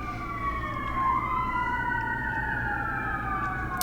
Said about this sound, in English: confirmation from the sirens coming in right now